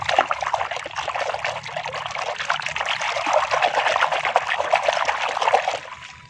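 Tap water runs steadily over a plastic toy being washed, a continuous close splashing trickle that holds level for several seconds before tapering off.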